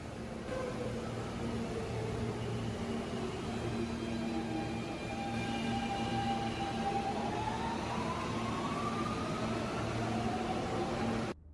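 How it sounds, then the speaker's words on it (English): R160 subway train in Cities Skylines 2, a steady faint rumbling hum with a tone slowly rising partway through, continuous and alone for about twelve seconds. "Listen to the sound of the R160."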